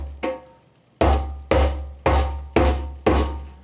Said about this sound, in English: So you take your hand, just hit it in the middle like this.